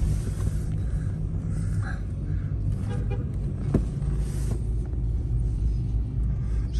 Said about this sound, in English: We're gonna do a little ride so you can hear the shift.